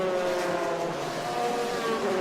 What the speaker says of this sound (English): That's a 2011 GT3 Cup car.